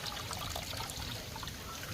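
Water trickles and pours steadily while being drained off during the cooking of Jaffna-style thothal, a continuous close liquid stream with no talk.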